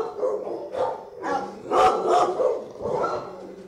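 A dog at an adoption center in Miami barks repeatedly in close, loud bursts with short gaps between them, some yips mixed in, and no clear talking.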